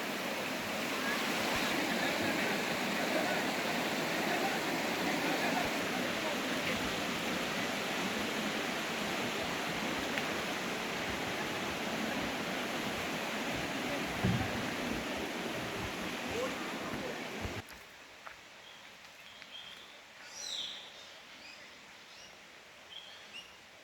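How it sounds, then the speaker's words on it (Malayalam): A river in Idukki rushes in a steady, broad roar for most of the stretch, then drops away to a quieter background with faint bird calls. "ഈ കാണുന്ന പുഴ തീർന്നാണ് നമുക്ക് സ്ഥലമുള്ളത്"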